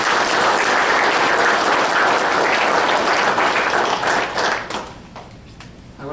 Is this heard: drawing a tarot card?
no